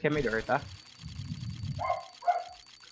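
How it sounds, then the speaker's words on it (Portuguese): A dog gives a couple of short, moderately distant barks after a person speaks briefly nearby. "desculpa o latido dos cachorros."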